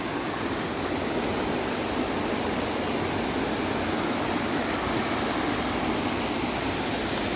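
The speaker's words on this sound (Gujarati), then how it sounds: "એકદમ ઝરણું વહેતું હોય" A flowing stream of water near Jatashankar in Junagadh rushes in a steady, dense hiss, loud and continuous from start to end with no voices over it.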